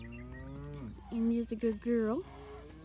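Cattle moo on a farm, several long low calls, loud and close, with someone speaking over the start.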